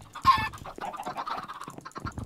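Minecraft chickens cluck in quick, choppy bursts, a burbling run of short fowl calls close and loud, with no talk over them.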